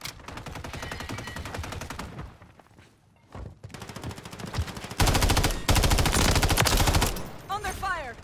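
Loud bursts of automatic gunfire in Call of Duty MW3 Warzone rattle in rapid rhythm, pause briefly, then return in heavier, sustained volleys, with a brief voice near the end.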